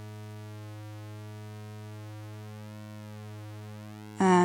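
A steady synthesizer square wave with a buzzy, harmonically rich timbre, its character slowly shifting as the pulse width sweeps, ending in a sudden louder burst.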